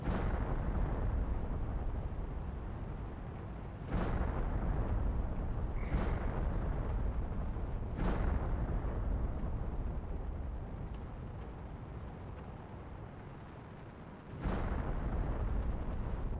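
Bomb explosions in the Planet Crafter game, four or five heavy booms spaced several seconds apart over a constant loud rumbling roar, with no voices.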